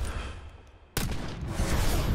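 A single sharp rifle shot in a Call of Duty game cracks suddenly after a quiet moment, followed by a loud, sustained rumbling roar and echo.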